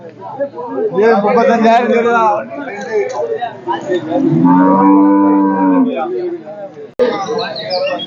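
Cattle at a rural livestock market in Kerala, two beef cows among them, give loud close moos of drawn-out harmonic lowing, with people talking around them between the calls.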